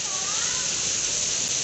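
Heavy rain pouring down in Bharatpur, a dense, steady roaring wash of water close by, constant and loud throughout with no breaks.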